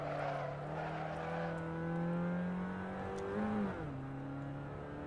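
A race car engine in the Assetto Corsa sim racing game holds a steady droning tone, climbs slightly, then drops sharply as if on a gear change, then settles into a lower drone, fairly faint with no talking.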